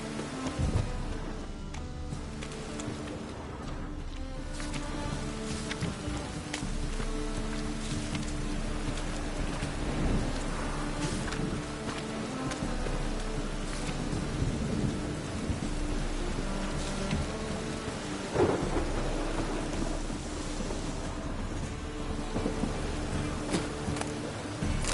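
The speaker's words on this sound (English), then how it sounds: "Rain again." Rain and thunder in the video game The Witcher 3, a steady hiss of falling rain with low rolling rumbles underneath, even and continuous without talk.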